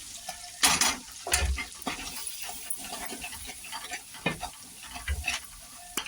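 Potato filling with gram flour stirred and roasted in a pan for aloo kachori, a spoon scraping in repeated strokes over a steady close sizzle, with no talking.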